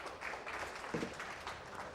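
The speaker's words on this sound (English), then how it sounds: "Hear the crowd applauding." Crowd applauding at a professional 10-ball billiards match in the Philippines, a steady patter of clapping from a hall audience that swells briefly midway, no talk over it.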